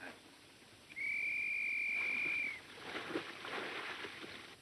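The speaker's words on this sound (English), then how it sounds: "There's Tyne's whistle right on the nose." A signal whistle is blown in a WWII combat setting, one steady shrill blast lasting about a second and a half, fairly faint and distant over quiet outdoor background noise.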